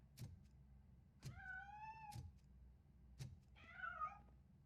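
A cat meows several times in the video game Robocop: Rogue City, with rising and falling cries spaced between soft thumps, the last meow longer and wavering, and no talking.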